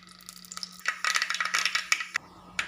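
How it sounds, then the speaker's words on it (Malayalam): Mustard seeds popping in hot coconut oil in a clay pot, a quick run of sharp crackles and pops that thickens into a busy burst, then a few scattered late pops. "കടുകൊന്ന് പൊട്ടി വരും"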